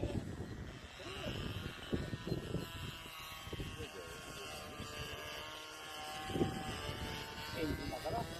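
An engine-powered Westland Widgeon model airplane with a 1000 mm wingspan, on its first flight, drones steadily at a distance, its buzz rising and falling, while people talk over it outdoors.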